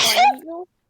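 A single sharp sneeze bursts out close to the listener and trails into a short voiced exhale before falling silent.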